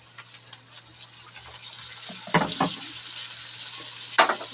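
Onion and tomato fry in a home kitchen pan with a soft, low sizzle, broken by a few louder scraping and stirring bursts near the middle and end, with no talking.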